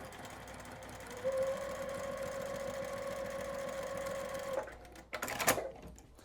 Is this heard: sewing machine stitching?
yes